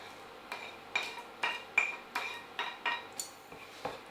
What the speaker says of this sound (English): we can put the mince and the onions back into the pan